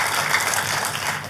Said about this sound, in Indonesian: Tepuk tangan yang meriah buat Tuhan kita.